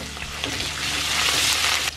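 Cumin, garlic and ginger fry in hot oil in a pan for Punjabi-style baingan masala, giving a steady close crackling sizzle with faint stirring clinks and no talking.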